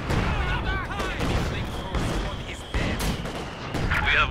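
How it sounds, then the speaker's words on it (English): Enemy gunfire in the World War II strategy game Company of Heroes 2, rattling in repeated bursts with heavy booms mixed in, loud and continuous, with a voice speaking briefly over it. "Enemy fire."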